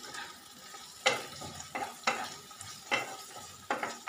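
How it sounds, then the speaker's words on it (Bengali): Sliced ridge gourd dry-fries in an uncovered pan with no water added, giving a soft sizzle under a spatula that scrapes and stirs about once a second, each stroke a sharp near scrape. "দেখুন ঝিঙে ভাজা হয়ে গেছে"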